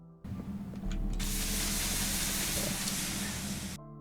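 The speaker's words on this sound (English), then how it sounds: "there's something about that sizzling sound when we place them down in here" Wet sponges placed down in the Nether in Minecraft, giving a sudden loud, steady steam-like hiss that surges in and holds for a few seconds over quiet game ambience before cutting off.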